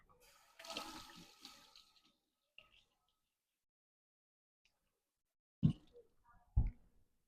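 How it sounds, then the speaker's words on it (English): Tap water running into a kitchen sink while hands are washed, a steady broadband rush in the opening two seconds, followed by quiet and a couple of short clunks and splashes near the end. "I'll just wash my hands in the sink."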